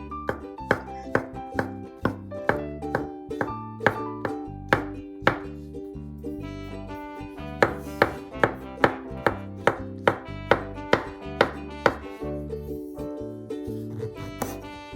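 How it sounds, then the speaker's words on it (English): A knife slices a king oyster mushroom on a cutting board in steady, evenly spaced crisp chops, close and clear, over soft background music. "Cut the mushroom cap lengthwise and then slice thinly."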